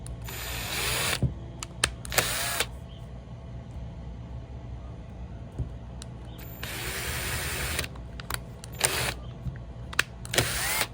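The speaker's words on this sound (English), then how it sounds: "drill holes in my template where I put the marker lines" A power drill whirs in several short bursts, drilling holes in a template, pausing between holes, with a steady low hum in the background.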